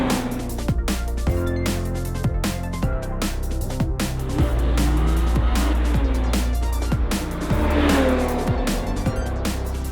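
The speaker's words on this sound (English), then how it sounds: "So we just did some base laps in the car." A BMW E30 Cup race car laps a track, its engine loud and close with steady revving, repeated gear changes and bursts of tire squeal through corners, running continuously with no talk.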